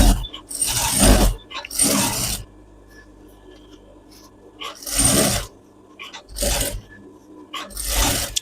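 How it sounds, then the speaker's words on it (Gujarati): A sewing machine stitches along the edge of a high-neck stand collar in several short, loud bursts separated by pauses, with no talking. "અહીંયા ધારની સિલાઈ કરી નાખવાની."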